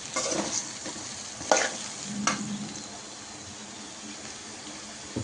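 Ridge gourd pieces drop into a hot pan and are stirred, giving a steady close sizzle with a few scraping clatters from the spatula early on. The frying then settles into a softer, continuous hiss.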